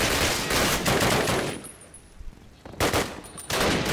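Dense, loud automatic gunfire from soldiers in a Call of Duty battle, rapid bursts repeating with a short lull in the middle before more volleys resume.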